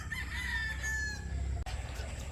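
A Perfection roundhead x Gilmore gamefowl rooster crows once nearby, its drawn-out call rising then fading, over a low rumbling background.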